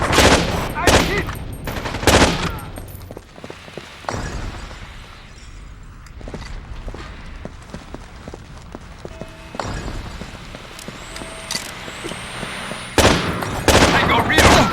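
Bursts of automatic gunfire in the Xbox game Rainbow Six 3: Black Arrow ring out loud and close in repeated volleys, with quieter shots and movement between them and voices calling out over the firefight.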